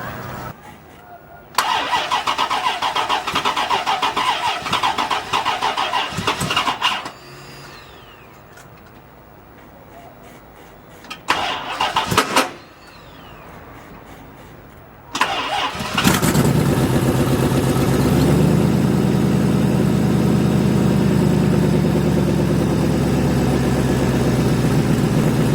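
A Corvette on a Schumacher jump starter cranks in bursts and then fires up, settling into a loud, steady idle near the microphone; short quiet gaps separate the cranking attempts.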